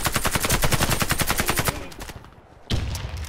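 Rapid automatic fire from an AK-103 rifle in the video game Warface: a dense, loud burst of shots, a brief pause, then another burst starting.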